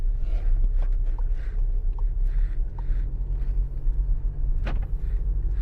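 A Skoda Octavia driving along in its normal drive mode, with a steady low engine and road rumble throughout and a few faint cabin knocks and clicks.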